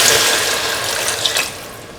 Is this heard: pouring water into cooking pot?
yes